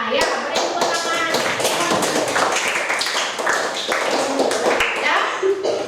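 A classroom of students claps together in a sustained burst of dense, uneven applause that lasts the whole stretch, with voices mixed in.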